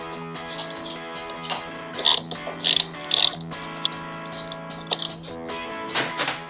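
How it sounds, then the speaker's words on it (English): A ratchet wrench adjusting the middle nut on a Speed Merchant foot peg of a Harley-Davidson Sportster, with close, crisp clicking strokes in short uneven bursts over a quiet room hum. "We just got to adjust now our middle nut."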